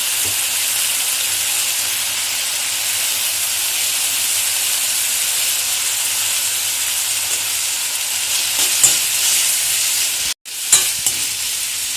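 Fried brinjal sizzles loudly in oil in a pan as it is stirred with salt and spice powder, a continuous close hiss with a few faint scraping clinks and a brief cut near the end.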